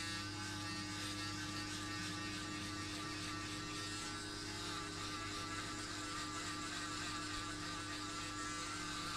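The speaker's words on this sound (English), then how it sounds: "Now grab your shaver, leave just 1 centimeter from here and shave everything below off." Electric shaver buzzing steadily while shaving hair for a high skin fade buzz cut in a barbershop, a close, continuous motor whine with no pauses and no talking.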